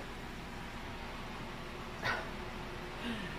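A dog gives a brief whimper and then a short, faint yip, two quiet cries over a soft indoor background inside an RV.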